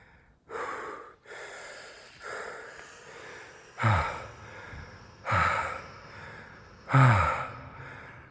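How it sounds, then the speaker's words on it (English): Heavy gasping breaths after an intense workout, about six loud close inhale-exhale cycles with sharp sighing exhales, spaced roughly a second and a half apart and alone without talk. "I need to regulate my breath."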